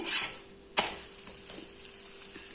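A chicken omelette fries in a pan with a steady, close sizzle. A sharp knock or scrape of a utensil briefly interrupts it early on.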